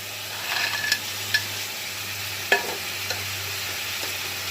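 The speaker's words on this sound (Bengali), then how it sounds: "বড়ি আর করলাটা কিন্তু আমি দিয়ে দিলাম" Fried lentil dumplings and bitter gourd go into a pan of bitter gourd chorchori, with a low, steady sizzle under a few sharp spoon-against-pan clinks as the mix is stirred.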